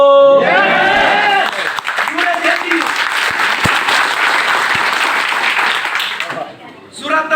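A seated crowd at a Bengali sales-success talk breaks into loud, sustained applause that runs for several seconds after a brief bit of the speaker's voice, then fades out.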